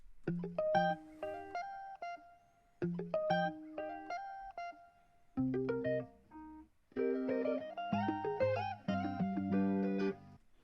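A bright, plucked guitar melody pitched up three semitones plays in short looping phrases with brief gaps between, clean and moderately quiet with no voices.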